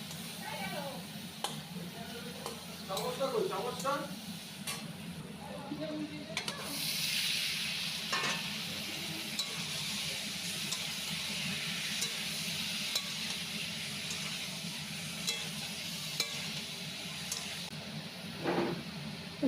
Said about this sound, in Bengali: সাদা জিরে শুকনো লঙ্কা ফোড়ন দিয়ে কুমড়োটাকে ভেজে নিচ্ছি